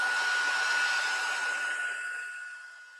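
A hair dryer blows a steady whine and rush of air close by while drying distress spray on paper, then fades slightly toward the end, with no talk.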